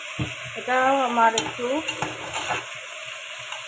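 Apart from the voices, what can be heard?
fish sautéing with spices, potato and sugar in a pan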